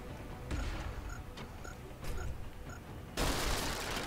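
Gunfire from soldiers shooting at enemies in the turn-based strategy game XCOM: Enemy Within comes as several sharp bursts, then a louder crash near the end, with a voice talking under it.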